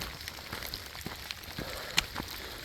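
Steady rain patters through a wet community forest in Chilliwack, British Columbia, on a cold day, a soft continuous hiss with scattered drops and one sharper tap, no voices.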